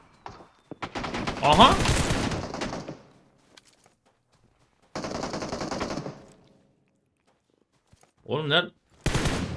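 Automatic gunfire bursts rattle loudly in a PUBG Mobile match, long rapid volleys separated by silences, with a short excited voice and a final quick burst.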